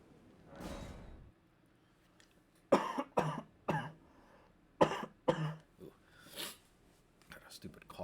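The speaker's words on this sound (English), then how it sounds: "got a stupid cough going." A man coughs repeatedly in harsh, throaty bursts, several spaced fits of two or three coughs each, close to the microphone, after a breathy exhale at the start.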